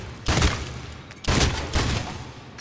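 Gunshots in the video game Mass Effect 3 Legendary Edition: three loud, close blasts spaced about a second apart, each with a short decaying tail.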